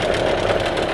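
Mikatsu 8 outboard motor running steadily after its carburetor was cleaned, a close, loud, continuous mid-pitched engine drone with a fast knocking pulse and no voices.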